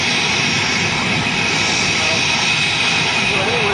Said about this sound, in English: The jet is now powering forward.